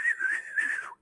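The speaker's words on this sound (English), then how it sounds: "basically what you do is you just render the speech as whistles" Sine wave speech rendered as whistles: a gliding, warbling pure tone with faint higher partials, rising and falling like speech for about a second, then cutting to silence.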